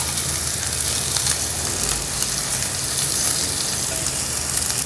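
Garlic, ginger and onion fry together in a pan of hot oil, giving a loud, steady close-up sizzle with crackling pops throughout and no talk.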